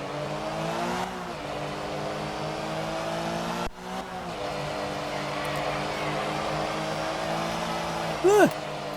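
A rally car engine in the racing game art of rally, a steady droning hum with gear changes and a sudden drop then recovery midway, ending with a short rising tonal whine.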